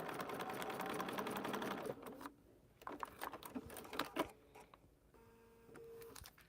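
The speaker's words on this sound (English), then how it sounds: "So I just stitched that seam." A sewing machine stitches a seam in a paper-pieced quilt block, running in a fast, close whir for about two seconds, then in short bursts and taps, then a softer steady hum.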